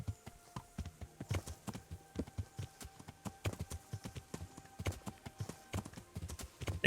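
Horse hooves clip-clop steadily in the medieval video game Kingdom Come: Deliverance, a quick, even rhythm of close, crisp hoofbeats at a trot with no talking.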